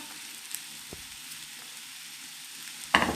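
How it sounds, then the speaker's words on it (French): Chanterelle mushrooms fry in a very hot pan with a steady, quiet sizzle, broken by a few soft clicks and a louder stir or scrape of the pan near the end. "Et on les met dans la poêle bien chaude."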